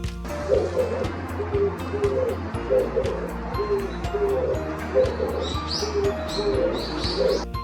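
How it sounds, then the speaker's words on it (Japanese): A wild dove repeats a soft, low cooing phrase again and again in a steady rhythm outdoors, with higher chirps from other birds and a light background hiss. "鳴き声はデデーポッポーと特徴的で、早朝にさえずります。"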